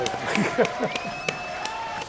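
Studio audience applauding a guest on a French TV show, a short burst of clapping mixed with voices and talk over it.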